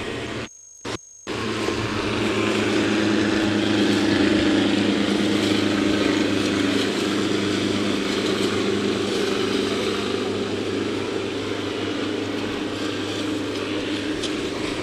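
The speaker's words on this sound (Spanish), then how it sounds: "el helicóptero de prefectura haciendo un recorrido." A prefecture helicopter passes overhead during a Pacú fishing race start, a loud steady rotor and engine drone that fills the scene after a brief dropout at the start.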